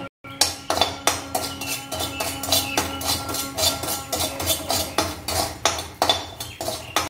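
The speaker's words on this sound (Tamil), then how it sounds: "அதோட எடுத்து வச்சிருக்க உப்பையும் சேர்த்து நம்ம லைட்டா வறுத்துக்குவோங்க" Asafoetida powder and salt being lightly roasted in a pan, heard as a steady run of metal spoon scrapes and clinks against the pan, repeating in quick rhythmic strokes, close and fairly loud, with no speech.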